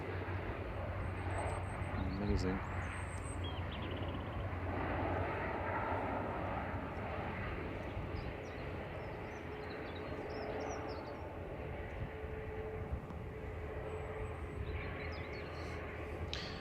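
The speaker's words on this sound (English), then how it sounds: "The Italian Air Force has just gone over. Yeah? That's what you can hear." An Italian Air Force Alenia C-27J Spartan twin-turboprop passes over near Manchester Airport, a broad, steady engine rumble holding for the whole stretch with wind noise, while people talk briefly.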